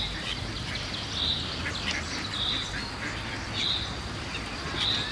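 Ducks quack in short repeated bursts at regular intervals, moderately near, over a continuous background hum of outdoor noise.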